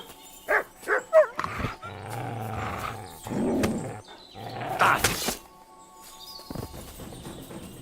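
Dog barking in a video game, several loud, close barks and growls near the start and middle, mixed with other game sounds and footsteps.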